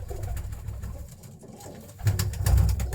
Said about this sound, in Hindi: ये एक सलारा टैडी कबूतर है जी